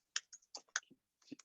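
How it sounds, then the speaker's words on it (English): A command being typed on a computer keyboard while working in a Kubernetes terminal: a quick, quiet run of separate key clicks with small pauses, and no talking. "show you the command as I'm typing it"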